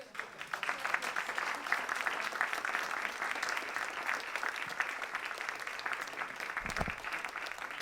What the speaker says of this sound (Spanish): creo que se merece un aplauso tu interpretación